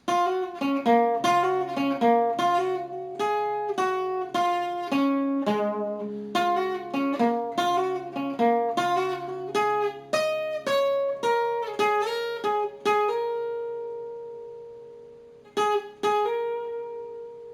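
Electric guitar plays a full solo, a steady run of clear picked melodic notes with sustained bends near the end, loud and alone before a brief pause and a final phrase.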